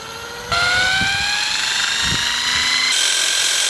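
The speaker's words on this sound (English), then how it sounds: "I'm going to spin this up to a few thousand RPM" Anti-gravity gyroscope wheel driven up toward a few thousand RPM, a loud whining drone that kicks in abruptly and climbs steadily in pitch, with a shift in tone near the end.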